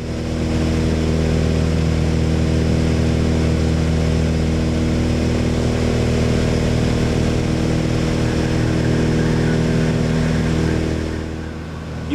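Piper Seneca twin aircraft engines run at a steady, loud, continuous drone with a strong tonal hum, easing slightly at the very end; no voices.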